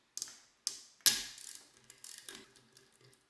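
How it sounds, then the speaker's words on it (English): A torque limiter tool loosens the captive barrel screws on an FNH SCAR rifle, giving a few sharp clicks and a ratcheting snap, close and quiet. "You can loosen the barrel from either side, and the screws are held captive so they won't fall out."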